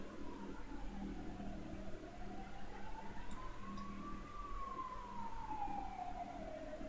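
A wailing ambulance siren rises and falls in long slow sweeps, steady and moderately distant, over low traffic rumble with no talking.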